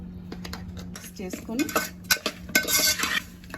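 A spoon clinks and scrapes against a metal pot while chicken is mixed with turmeric, salt and chili powder for an Andhra-style chicken fry, with irregular close knocks and rattles and a faint sizzle beneath.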